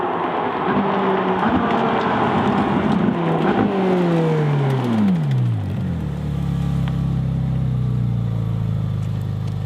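Ferrari 458 Speciale or Porsche 997 GT3 RS 4.0 accelerating hard on a track, loud engine climbing through the gears with several pitch drops at shifts, then settling into a lower, steadier drone.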